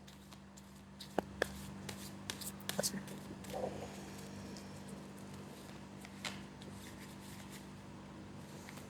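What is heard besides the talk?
shuffling tarot cards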